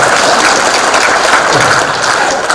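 An audience at a comedy performance gives loud, continuous applause, a dense wash of clapping that stays even and close throughout, with no talk on top.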